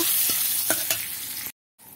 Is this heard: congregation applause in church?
no